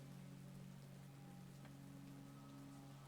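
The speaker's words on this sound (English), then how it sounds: "that's just a lame excuse with the rain" Soft, steady rain falls in a game scene, a faint continuous patter under a low constant hum, with no voices.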